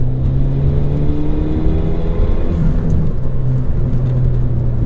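A 2016 Ford Fiesta ST with a small turbocharged engine accelerates, a steady loud engine drone with rising tonal harmonics that shift partway through, heard from inside the car with no talking.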